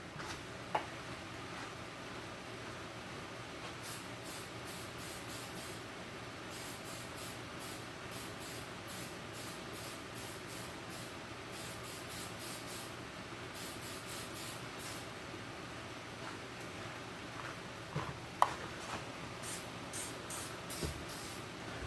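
An aerosol can of Meguiar's Ultimate Black tire coating hisses in short, repeated bursts, soft and close, with brief pauses between sprays over a quiet background.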